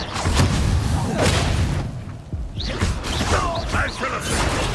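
Confringo fire spell blast in Hogwarts Legacy, a loud booming impact with a whooshing burst amid heavy battle noise and mechanical clatter, followed by crackling magical effects.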